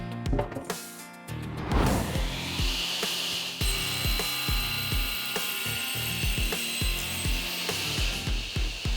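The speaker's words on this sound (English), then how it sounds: "we are ready to put it on the saw so we can get rid of the edges and get it to the exact dimensions that we need" A saw trims the edges of a glued wooden tabletop panel, a sustained whining cut with a ringing high tone and repeated knocking thumps of wood handling, loud and close.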